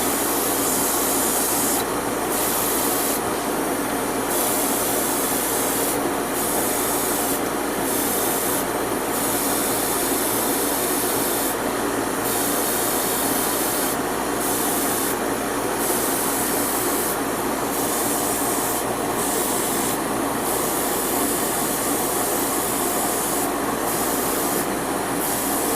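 An airbrush or spray can hisses continuously over a Gundam model part, a steady close spray broken by short regular pauses between light passes, with no talking.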